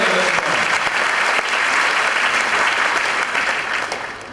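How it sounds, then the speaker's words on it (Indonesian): Loud, dense audience applause at a company year-end gathering, a steady roar of many hands clapping that holds throughout and eases slightly at the end. "Sekali lagi boleh kasih tepuk tangan yang paling meriah untuk Anda semua"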